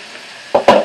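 Peeled, deveined shrimp hitting hot olive oil in a pan for a Shrimp Alfredo: two quick bursts of loud, bright sizzling close by, the second one stronger and trailing off, with a quiet room before them.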